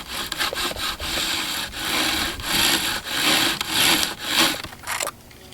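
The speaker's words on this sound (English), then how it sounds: "You can actually work rawhide down." Rawhide cordage being worked back and forth to break down its fibers, a loud, close, rhythmic series of dry rasping and rubbing strokes, steady and continuous before stopping near the end.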